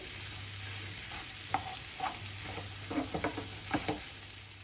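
A spoon stirs masala dosa patty mixture with a spoonful of cornflour added as binder, producing soft scraping and squelching strokes in an irregular rhythm, close but quiet over a steady background hum.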